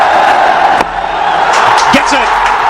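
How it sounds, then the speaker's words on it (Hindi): A cricket stadium crowd roars and cheers steadily for Sachin Tendulkar's double century, a broad, loud wash of voices with a sharp slam-like crack early on and excited shouts rising toward the end. "पूरा स्टेडियम, पूरा ड्रेसिंग रूम खड़े होकर तालियों से उनका स्वागत करने लगा"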